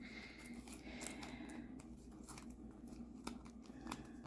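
Scissors snip strips of washi tape in quiet, close, crisp cuts, with light paper rustling and brief pauses between snips.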